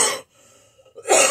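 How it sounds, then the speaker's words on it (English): A person coughs in a warm greenhouse, with two harsh, close bursts separated by a brief quiet pause. "it always makes me cough"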